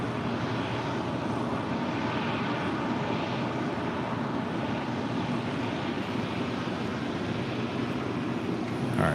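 A Boeing 777 at LAX gives off a constant, dense engine roar that stays loud and unchanging, with no voices heard.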